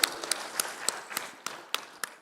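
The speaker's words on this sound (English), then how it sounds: "let's give a round of applause for the 3 superheroes of social works" Scattered claps from a small conference audience for plenary speakers at a social work event, about eight distinct sharp hand claps spaced roughly evenly and heard fairly faintly in a quiet room.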